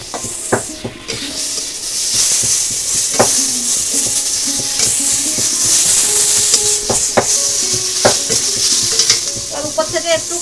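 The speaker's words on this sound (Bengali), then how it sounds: "পেঁয়াজ বাটা লঙ্কা গুঁড়ো দিয়ে একদম ভালো করে পটলটা ভাজতে হবে আরও একটু" Pointed gourd (potol) sizzles in a pan with onion paste and chilli powder while being stirred, a steady loud frying hiss punctuated by repeated scraping and tapping strokes of a spatula against the pan.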